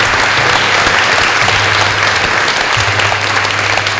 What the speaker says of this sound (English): So let's give the town clerks a round of applause.